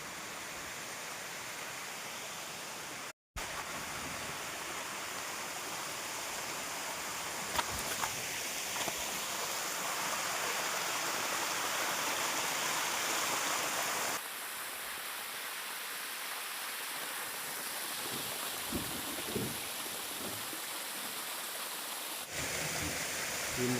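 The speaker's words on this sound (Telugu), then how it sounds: "సెకండ్ వాటర్ ఫాల్కి వచ్చాము మనం" The second waterfall at Gurrala Thota gives off a continuous broad rushing roar, steady and moderately distant. A brief break and a few shifts in the wash interrupt it.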